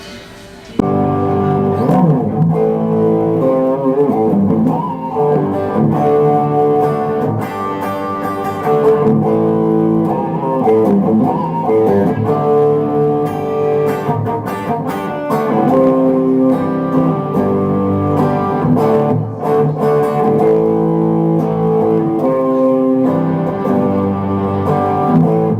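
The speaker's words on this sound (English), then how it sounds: "turn a different type of distortion pedal on" A distorted electric guitar plays continuously through a MegaTone Mega 30 amp and 2x12 cabinet with a distortion pedal, thick and gritty with sustained chords and notes, loud and steady throughout.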